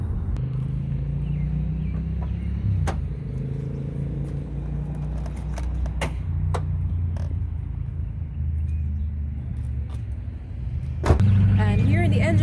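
A 4.6 liter dual overhead camshaft V8 car with long tube headers and an X-pipe exhaust idles with a steady low rumble, sharp clicks and chirps scattered over it, ending in a sudden louder burst of engine sound.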